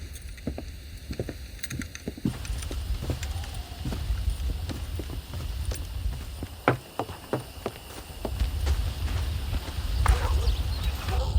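Horse hooves clip-clop steadily in the Red Dead Redemption video game while horses are being broken in, a regular near trotting rhythm running throughout over low ambient rumble.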